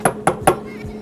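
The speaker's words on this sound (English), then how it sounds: "So I need to give it a little tap on the old vise" A car spark plug, fitted for a Ford Focus RS, is tapped three times against an old metal vise to close its gap. The knocks are sharp, close and evenly spaced, then a faint hum fills the rest.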